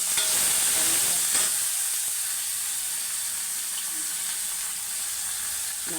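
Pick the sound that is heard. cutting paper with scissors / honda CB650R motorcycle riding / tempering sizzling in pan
tempering sizzling in pan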